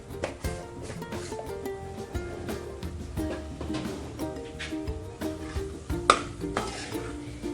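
Potatoes are stirred into sautéed masala in a pan for dhaba-style dum aloo, with rhythmic spoon scrapes and clatter over a light sizzle, close and continuous without speech.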